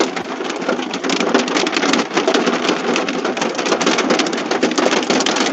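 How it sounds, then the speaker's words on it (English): Half-inch hail pelts down steadily in a severe storm, a dense, loud, continuous patter and clatter on surfaces with no voices over it. "I would call that half-inch hail"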